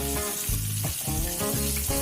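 Real cooking oil sizzles and crackles steadily while food fries in a mini kitchen, a loud, dense, continuous hiss with occasional stirring sounds.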